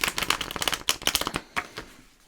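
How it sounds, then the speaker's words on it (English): A Wild Unknown tarot deck gets a vigorous shuffle, a dense run of quick card riffles and flutters lasting about two seconds, close and fairly loud, tapering off at the end. "So the deck that wanted to be used for the clarifiers is the Wild Unknown. So we're going to give that a big shuffle"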